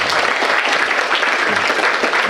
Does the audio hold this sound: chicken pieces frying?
no